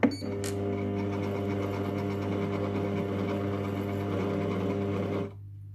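Compact Cook Pro M6 multicooker motor turning on a slow mix program in reverse: a steady, close, droning hum with a constant buzzing tone that runs evenly for about five seconds and then cuts off abruptly.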